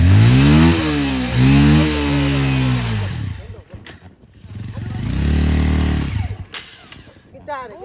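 A motorcycle engine coughs, revs and sputters through repeated attempts to start, loud and close, dropping out and catching again in uneven bursts.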